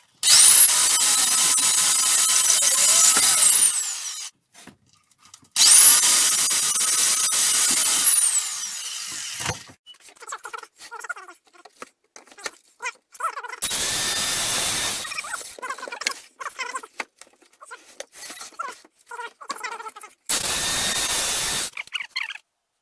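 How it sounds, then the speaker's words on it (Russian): A loud, high-pitched power drill whines in two long bursts while drilling hanger holes in a wood-concrete nest box, then a few shorter drilling spurts separated by quiet handling noises. "Вот сейчас будем делать отверстие под навесы."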